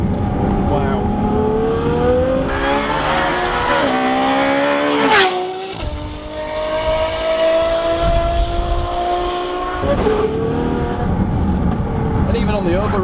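A Ferrari F12 N-Largo engine revs and pulls hard in a first drive, its loud rising wail climbing through the gears with a brief lift around the middle, and an excited voice speaks over it.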